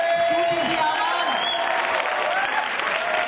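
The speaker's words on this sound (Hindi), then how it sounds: "Shall we give the Lord a big clap offering?" A church congregation claps in sustained, dense applause, loud and continuous, with voices calling out over the clapping.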